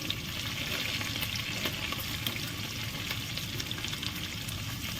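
Onions frying in a pan with fresh mint for a coconut milk pulao give a dense, steady sizzle and crackle up close, with faint stirring ticks scattered through it and no voices.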